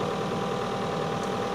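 A Ford 7710 tractor engine chugs steadily while driving, a dense, loud mid-to-low diesel throb with a rapid, even knocking pulse and no pauses.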